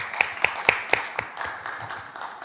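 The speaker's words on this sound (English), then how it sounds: "I just want to give another round of applause to both of you for being here" Applause for two young speakers at a youth climate and biodiversity event: a few sharp, evenly spaced claps fade into a thinner patter of clapping.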